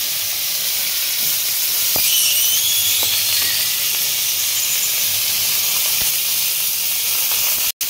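Oil sizzling in a pan while cooking crab kosha, a loud, steady bright hiss that runs without a break, with a few faint clicks, alone and close.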